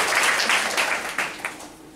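An audience at a lecture applauds to welcome a philosophy-of-mind speaker, a steady wash of clapping with scattered sharper claps that slowly thins out over two seconds.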